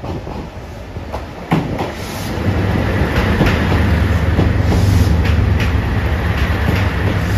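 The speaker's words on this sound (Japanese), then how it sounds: "2番乗り場に特急列車の高知行きが到着いたします。" A JR Shikoku limited express train for Kochi, a 2700 series Ashizuri, rolls into platform 2 at Kubokawa station. It gives a steady rumble with rail clacks and brake hiss that build louder over the whole stretch, and no voices are heard.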